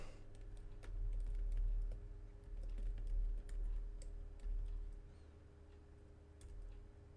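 Computer keystrokes tap quietly at an irregular pace, with a few brief pauses, over a low steady hum of a machine or room.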